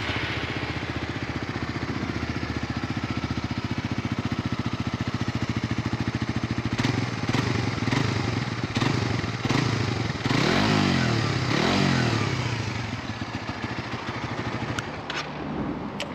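A Suzuki GSX-R150 motorcycle engine idles steadily up close, then is blipped through several sharp revs in the second half before settling back, with no talk over it.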